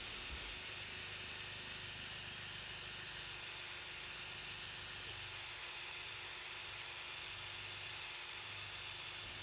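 A drill spins a soft felt buffing wheel to polish windshield glass with cerium oxide, giving a constant, faint, high-pitched whirring hum with a light hiss that holds steady throughout.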